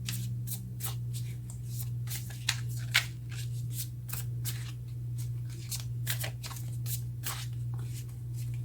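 Tarot cards are shuffled and handled in a run of crisp, rapid riffling flicks and slaps, close and distinct over a steady low hum.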